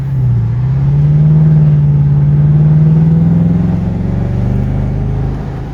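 A 2004 Mercedes SL55 AMG pulls away in third gear, its supercharged V8 engine rising in a smooth, loud, close drone that holds strong and then eases slightly near the end.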